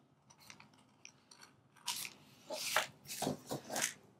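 Scissors snipping a small piece from a paper bag, a series of crisp close cuts and crinkles growing louder toward the end, with quieter handling rustle before them.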